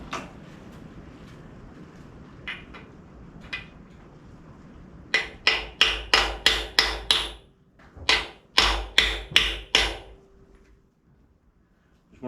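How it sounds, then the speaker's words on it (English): Metal-on-metal hammer taps drive a bearing home through a socket on a 1981 Corvette performance engine, starting with a few scattered light knocks and then two quick bursts of sharp, ringing strikes, close and loud. "I'm just gonna do a little tappity tap tap."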